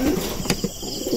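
Racing pigeons cooing softly at close range, with a brief burst of wing flapping partway through, in a loft while birds are taken for a race.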